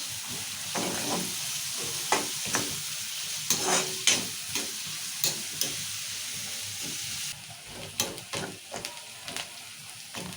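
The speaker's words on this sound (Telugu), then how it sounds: "ఇక ఇట్లా మంచిగా నూనెలా ఇట్లా వేగించుకోవాలి" Onions fry in oil for a potato masala curry with a continuous crackling sizzle and repeated sharp clacks of a spoon stirring against the pan, fairly close and loud throughout.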